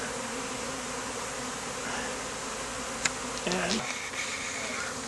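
Honey bees swarm close around a hive box, a dense continuous buzz with a few louder passes near the microphone and a single brief spoken word.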